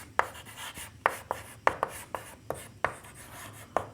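Handwriting an equation with a pen on paper during a Class 10 maths lesson: brisk scratching strokes punctuated by sharp taps every half second or so, close and clear over a low background hum, with no speech.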